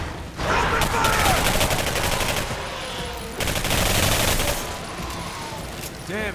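Game gunfire in the first-person shooter Singularity: two sustained bursts of rapid automatic shots, loud and close, separated by a brief lull, with a final short burst near the end.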